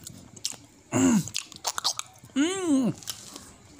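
Crunchy food bitten and chewed during a mukbang eating session, with two loud close crunching bursts amid smacking mouth sounds and brief vocal noises.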